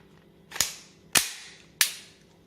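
Three sharp metallic clacks spaced about half a second apart, loud and close with nothing else around them, as a Glock 19 FS pistol's slide is racked during an empty-chamber check.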